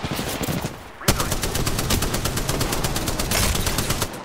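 Rapid automatic gunfire rattles loudly and close in a video game shooter match, a brief pause then a sustained burst of dense repeated shots.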